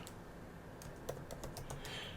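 Computer keyboard typing in a quiet room, a quick burst of clicking keystrokes that are fairly faint and close, with no talking.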